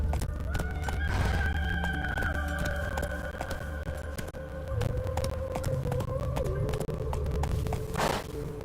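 A horse in the video game The Witcher gallops steadily with rhythmic hoofbeats over a continuous ambient backdrop, a whinny rising near the start and again toward the end.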